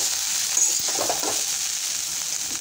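Okra (bhindi) frying in a pan, a steady hiss of hot oil with soft, occasional stirring scrapes close by.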